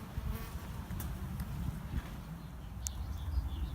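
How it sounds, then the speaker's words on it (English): Honeybees buzz near an outdoor homebrewing setup during a beer sparge, a faint, continuous droning hum over quiet background rumble, with a soft tone that wavers as the bees move about. "The honeybees come over to visit us."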